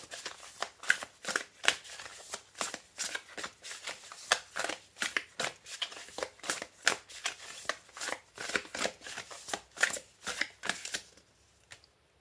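Tarot cards being shuffled by hand, a rapid, regular series of crisp riffling bursts, close and moderately loud, continuing steadily for around eleven seconds before tailing off.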